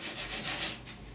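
Polyester body putty on a rusty 1969 Chevrolet C10 roof being roughed down with 80-grit sandpaper, a steady close rasping scrub in quick back-and-forth strokes with no talk.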